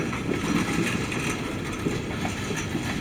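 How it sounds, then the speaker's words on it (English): A freight train led by EMD GP38-2 and GP40R locomotives passes at Wamac, Illinois, rumbling steadily with a dense, broadband roar and faint rhythmic clatter of wheels on rails, heard continuously from close by. "I'm watching this train on a Saturday morning"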